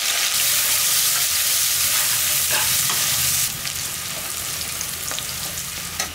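Sliced onions and green chilli frying in hot oil for prawn biryani, a loud, steady close-up sizzle with a few faint scrapes, softening slightly partway through.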